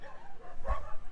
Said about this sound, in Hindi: लद्दाखी कुत्ते आए हैं।